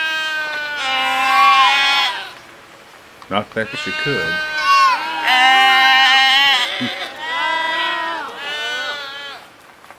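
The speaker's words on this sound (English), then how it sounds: "And don't forget the goats." Goats bleat repeatedly and loudly nearby in long wavering calls, with several animals overlapping, a few short knocks between the cries and someone talking briefly in the middle.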